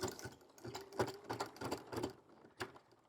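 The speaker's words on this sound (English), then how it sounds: "So all I'm going to do is sew as far up to it as I can." Sewing machine stitching a DIY bag in short bursts, a handful of quick rhythmic mechanical chatters with brief pauses between, close and fairly quiet.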